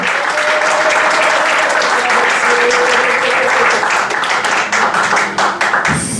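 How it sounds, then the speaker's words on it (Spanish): A church congregation breaks into loud, sustained applause, many hands clapping together in a dense rattle that holds strong before thinning out and stopping near the end. "Démosle ese aplauso fuerte al Señor."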